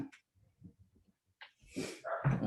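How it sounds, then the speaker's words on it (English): Dog making soft whimpers, snorts and breathy sniffs indoors, a few quiet short sounds followed by louder snuffling bursts near the end, close by with no talk over it. "Sorry, that's my dog."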